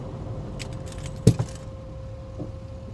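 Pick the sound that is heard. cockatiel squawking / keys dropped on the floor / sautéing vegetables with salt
keys dropped on the floor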